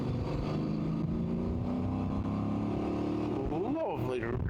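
A Voge DS800X Rally motorcycle pulls a third-gear roll-on, its engine and resonant airbox drone building steadily under close wind rush before a brief rising sweep at the end.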